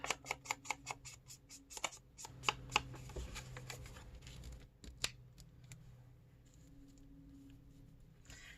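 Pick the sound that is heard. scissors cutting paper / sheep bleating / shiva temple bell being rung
scissors cutting paper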